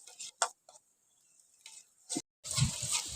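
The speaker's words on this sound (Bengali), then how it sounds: "আমি ভুসিটা দিয়ে ভালো করে এর সঙ্গে মিশিয়ে নিচ্ছি" Spoon stirring bran into watermelon sherbet, with a few brief scraping and clinking strokes separated by quiet gaps, then a busier stretch of stirring at the end.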